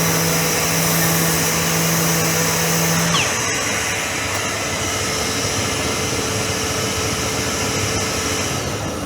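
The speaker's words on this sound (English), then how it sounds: "Little vacuum connected to my sander. When I turn the sander on, I'm sucking and pulling simultaneously" An electric sander with a small vacuum attached runs steadily in a small woodworking shop, a loud continuous whine with a low hum that drops out partway while the motor noise carries on.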